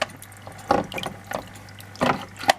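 Water splashes and trickles in short, irregular bursts from a Seachem Tidal 35 hang-on-back filter running on an aquarium tank, heard close and fairly quiet.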